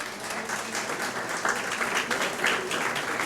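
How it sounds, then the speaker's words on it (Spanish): Audience applause at an event, a steady wash of many hands clapping at moderate volume that holds evenly throughout with no voices standing out. "aplauso."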